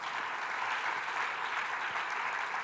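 A church congregation applauds during a sermon: dense, even, sustained clapping from many hands fills the room with no voice on top.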